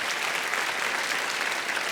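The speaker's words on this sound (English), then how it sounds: "I'd like to do that with a round of applause" An audience at a debate gives a round of applause, a continuous wash of many hands clapping at moderate volume for the whole stretch.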